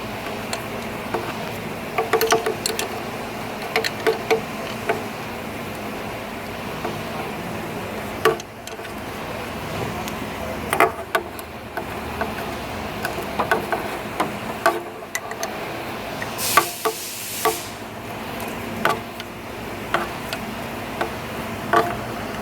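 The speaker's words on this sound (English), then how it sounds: "I'm going to come back and put on the final tightening torque on all 3 bolts." Torque wrench clicking as three bolts on a Honda Civic VTEC solenoid (rocker arm actuator) are given final tightening, a scattered run of sharp ticks and small metallic clicks close by, with no talking.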